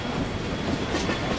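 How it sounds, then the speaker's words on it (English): Moving train in Castlevania Lords of Shadow 2, a continuous close rumble of rolling wheels with clickety-clack rattle and no voices. "Oh, the train's moving."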